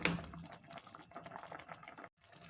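Apricot chutney simmers softly in a pan, with faint, irregular bubbling and popping and a brief quiet gap near the end.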